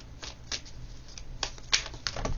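Playing cards drawn one at a time from a deck during a card reading, a few soft papery snaps and slides spaced irregularly, faint and close with no voices.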